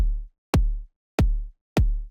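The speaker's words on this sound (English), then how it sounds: "A nice punchy kick." A synthesized phonk kick drum hits four times in an uneven pattern, each a deep punchy thump with a sharp click and a falling boom.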